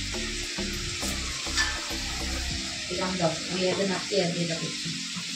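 Food frying in hot oil makes a close, steady sizzle, with stirring clatters and scrapes throughout and a voice speaking over it.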